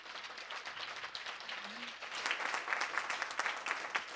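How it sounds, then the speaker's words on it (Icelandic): Audience applause for young flute players from a music school at an annual Erasmus+ meeting, a steady wash of many hands clapping that swells louder partway through and continues without talk. "Gefum þeim gott klapp."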